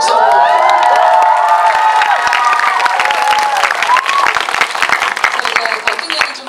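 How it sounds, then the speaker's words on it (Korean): Audience applause and cheering at a talk event with an actor, beginning with loud high-pitched shrieks and whoops over clapping, then settling into sustained crowd clapping. "박수 한번"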